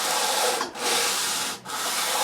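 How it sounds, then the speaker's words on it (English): A brush sweeps lightly along the fret slot edges of a 1959 Fender Stratocaster fretboard, a close, steady scratchy rubbing in two passes separated by brief pauses. "now I'm just going to brush very lightly"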